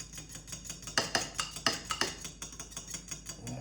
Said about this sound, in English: I'm gonna mix that oil, milk, and egg.